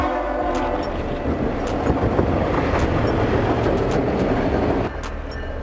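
A snowplow train rolls along railway tracks with a steady, loud rumble and rhythmic wheel clatter, joined by brief horn-like tones, continuous and close throughout with a slight drop near the end.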